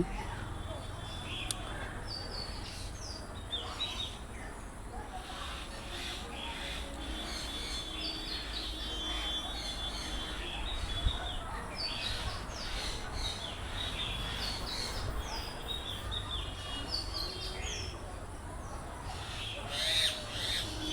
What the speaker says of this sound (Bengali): এবারে দেখতে পাচ্ছেন এক ঝাঁক কনুর পাখি